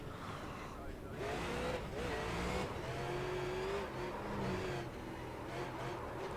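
A Super Late Model race car drifting around Irwindale Speedway in iRacing, engine droning with pitch swings and tire squeal, loud and continuous, with a voice talking over it.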